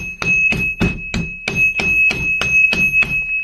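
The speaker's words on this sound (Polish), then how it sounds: "Jak to nie pomoże, to metalowym." A metal hammer strikes a rusty motorcycle engine part, ten or so sharp ringing taps at an even, brisk rhythm, close and clear, each followed by a brief metallic ring.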